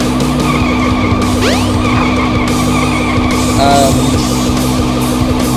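Police cars in the Sonic Adventure DX video game skid with repeated synthetic tire squeals, rising sweeps over a steady engine drone and busy game music, loud and close throughout.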